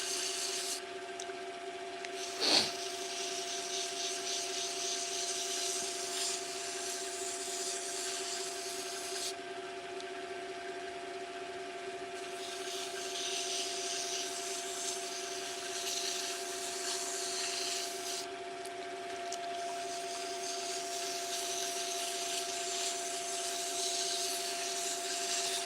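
Sanding down through sandpaper grits, with a continuous steady electric hum and a raspy scratching texture that swells and eases in long passes, heard close and moderately loud.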